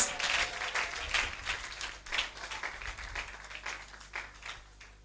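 A church congregation at a Sunday worship service breaks into applause, a dense patter of many hands clapping that swells and then thins out over several seconds, with no clear speech.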